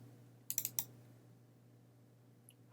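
A quick burst of four computer mouse clicks opening File Explorer on a Windows 10 PC, crisp and close over a low steady hum, followed by quiet room tone and one faint tick near the end.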